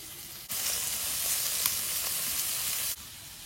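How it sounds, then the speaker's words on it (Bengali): Bombay duck fish frying in a frying pan give a steady, close sizzle that starts abruptly, holds evenly with a few small pops, then cuts off after a couple of seconds. "এখন লোটে মাছগুলো এই ফ্রাই প্যানে বসিয়ে দেবো"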